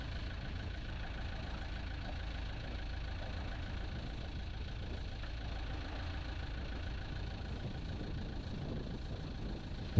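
An inboard marine boat engine idles during freshwater flushing, a steady low, even rumble heard close and alone, with a brief clunk at the very end.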